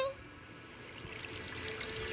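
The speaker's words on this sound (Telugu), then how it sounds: "అరే వాటర్ వస్తుందండి" Flowing water in Minecraft, a steady soft trickling and pouring stream heard at moderate level throughout, with no talk over it.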